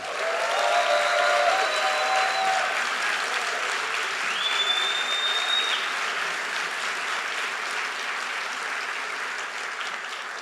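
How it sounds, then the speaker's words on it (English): Sustained applause and cheering from a large audience at a college fall convocation ceremony, loud at first and then easing slightly while continuing evenly, with a few whistles rising above the clapping. "How about a big cheer for yourselves"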